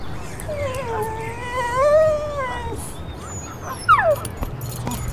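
An elderly dog lets out a long, rising and wavering howl, followed by a short sharp yelp, heard up close and fairly loud over faint background noise.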